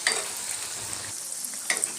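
Bora made with vedailota leaves fry in hot oil, giving a close, steady sizzle with light scraping stir sounds and a couple of brief louder spatters.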